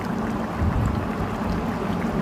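Egg curry simmering in a covered pot gives a steady, dense bubbling and rumbling boil, close and continuous, with no voices.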